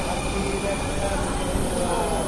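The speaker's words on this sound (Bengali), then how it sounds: "এখন আমরা ভিতরে ঢুকবো, ট্রেন চলে আসছে।" A metro train arrives at a station platform, giving a steady, moderately loud rumble and whine of rolling wheels throughout the short stretch, with no clear talk.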